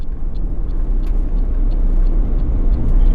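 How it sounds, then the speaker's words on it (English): Road grader approaching on an outback desert track, heard as a steady low engine rumble that swells slightly as it nears, with a few faint high squeaks over it. "As this grader coming up"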